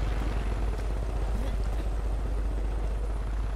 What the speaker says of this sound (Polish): Nie podoba mi się to, że Jazz helikopterem sobie lata.